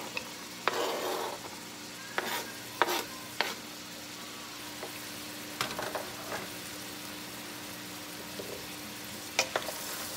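A seafood and fish stew is stirred in a pot over a low simmering sizzle, with a few scattered scrapes and clinks of the utensil against the pot.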